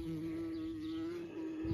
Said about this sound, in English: Hi, bee.